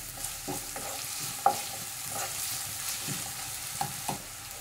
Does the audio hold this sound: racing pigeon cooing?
no